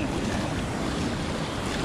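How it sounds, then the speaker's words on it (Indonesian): Big ocean waves roll around a small fishing boat at sea, a dense continuous wash of surf and wind buffeting the microphone, loud and close, with no voices. "Ombak besar, bro."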